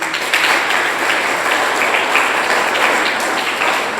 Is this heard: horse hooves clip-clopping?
no